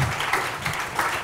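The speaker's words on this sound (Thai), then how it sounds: "ผมขอเสียงปรบมือต้อนรับนะครับ" A lecture audience gives a brief burst of dense applause to welcome a professor at a talk on genetic medicine, a close, steady wash of clapping.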